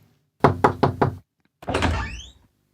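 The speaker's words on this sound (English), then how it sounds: "She ran upstairs and knocked on the door." Knuckles rap three times on an apartment door, sharp close knocks in quick succession, then a longer creaking scrape follows.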